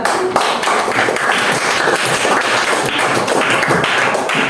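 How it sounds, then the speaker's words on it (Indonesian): A class of students claps their hands in a classroom, a loud, close, irregular patter of individual claps lasting throughout, with distinct sharp slaps standing out rather than a smooth roar. "iya, tepuk tangan"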